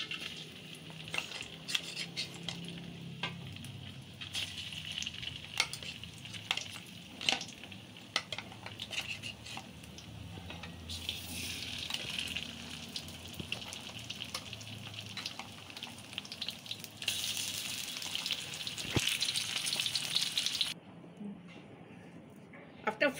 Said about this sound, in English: now I'm going to fry the crabs.